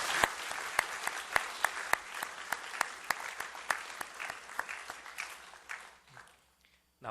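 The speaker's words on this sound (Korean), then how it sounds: "우리 환영 박수 한번 보내주시기 바랍니다." A church congregation claps in welcome for newcomers, many hands clapping in a lively, fairly steady rhythm with a few sharp louder claps, fading out near the end.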